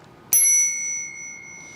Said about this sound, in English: The bell, this is the nicest bell you can get for an e-bike.